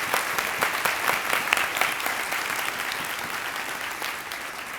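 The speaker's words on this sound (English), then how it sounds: "So let's have a round of applause for these scientists." An audience at a community luncheon claps steadily for award-winning scientists, a sustained round of applause that holds its level for several seconds before easing slightly, with no voices over it.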